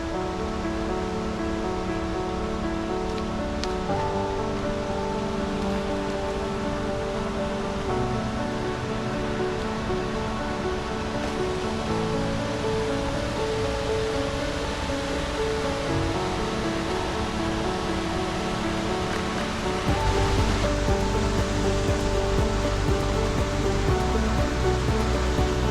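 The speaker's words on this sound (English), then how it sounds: "Naog Falls is a very powerful 20-foot waterfall formed by the roaring brook as it drops down into the gorge" Nay Aug Falls, a powerful 20-foot waterfall of the Roaring Brook dropping into a rocky gorge, gives a steady loud broadband roar of rushing water with no voices, swelling slightly louder near the end.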